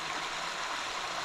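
A steady, close wash of stream water flows through a forest near a cave, the broadband rushing continuous and even, with no voices over it.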